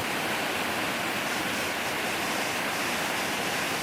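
Steady, dense roar of a wide, spreading tier of Namtok Sap Sombun waterfall, a constant broadband rush of falling water with no pauses.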